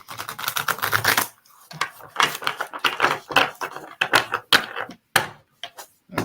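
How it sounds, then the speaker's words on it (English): Tarot cards are shuffled by hand at close range, giving rapid bursts of riffling and slapping card clicks in several quick rounds separated by short pauses. "All right, one more shuffle."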